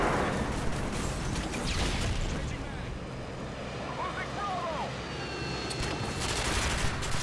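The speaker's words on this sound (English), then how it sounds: "Wall banging is where you shoot bullets into a wall" Muffled bursts of gunfire fired through a wall in Modern Warfare 2 on the Terminal map, a dense, continuous rattle under game noise and talk, with a few sharper reports standing out.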